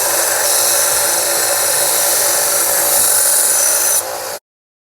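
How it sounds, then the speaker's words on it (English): A knife bevel being ground on a belt sander, held at a set angle between 10 and 15 degrees by a small grinding jig; the blade is made from telephone-pole hardware. A steady, loud abrasive hiss runs throughout, then cuts off abruptly near the end. "I have this little grinding jig on here to make sure that where I'm grinding at is equal on both sides"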